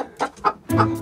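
Chickens cluck in a few short, close bursts, ending in a fuller, louder cluck, with no talking.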